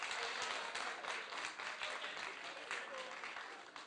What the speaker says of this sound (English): I think that we need to give ourselves a round of applause.